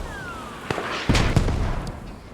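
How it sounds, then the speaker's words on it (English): Artillery shells land in the Squad video game, a whistling fall followed by a few sharp, booming impacts with rumbling decay, moderately loud and heard alone. "Second artillery."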